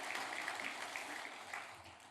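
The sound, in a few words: congregation applauding in church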